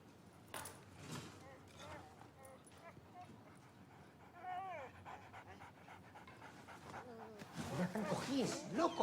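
A dog pants and snarls in quick rough bursts beside loud, excited human voices, and the sound grows busier and louder toward the end.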